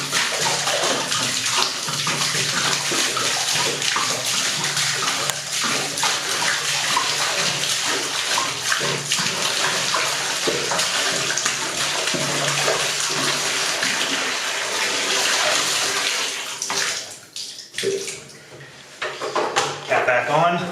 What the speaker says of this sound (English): We're filling the bathtub up in Edinburgh Manor to attempt this technique.